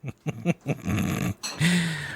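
A dog in a horror video game growls and snarls in a series of short, close bursts, ending in a longer, louder rasping growl, with no talk.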